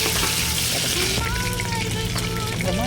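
Mustard seeds and crushed garlic frying in hot oil, a dense, loud sizzle with crackling pops, with a few faint tones in the background.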